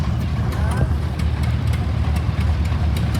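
Vintage oil pull tractor with a later pressed steel frame runs steadily in a parade of power at an engineers' show, a continuous low engine rumble with repeating sharp ticks, heard loud and close under constant crowd and announcer noise.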